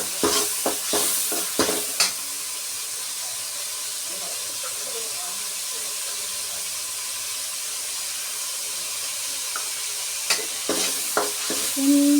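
Five or six green chillies frying in a pan for chicken gravy, a steady close sizzle with clattering stirring knocks at the start and end, and a voice speaking briefly over it.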